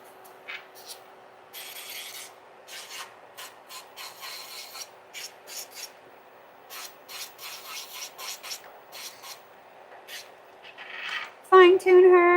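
A rotary tool spinning at 9,000 RPM shaves away material in a series of short, raspy grinding bursts over a steady high motor whine, ending in a brief louder tonal squeal.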